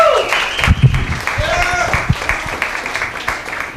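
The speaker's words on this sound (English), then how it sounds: "So everybody, a round of applause," Scattered crowd applause in a small tavern at a Friday night comedy showcase after a first-time performer, fairly light clapping mixed with voices and room chatter throughout.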